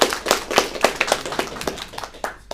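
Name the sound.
audience applause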